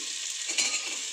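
Chopped garlic sizzling in hot ghee or olive oil for Darjeeling-style momo filling, a brief, close, steady hiss and crackle with a slight stirring scrape.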